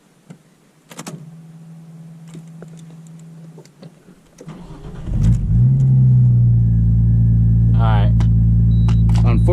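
A Nissan R34 GT with a turbo conversion is cranked after a few quiet clicks and clunks, then fires up into a loud, steady idle that holds close by, with a brief whine in the background.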